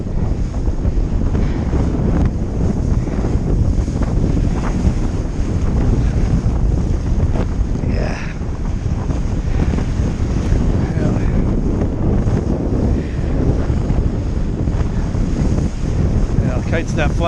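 Strong wind roars steadily over the microphone while kiteboarding at sea on a 12m Duotone Switchblade kite with a Spike board, loud and continuous with faint water wash beneath.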